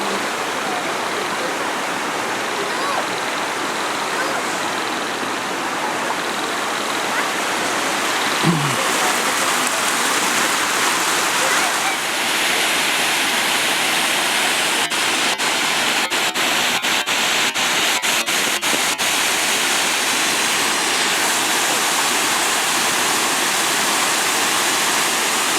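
Creek water rushes steadily through a gully, a dense continuous hiss and wash with a brief low thump near the middle and a few faint clicks later, heard close and alone without talk.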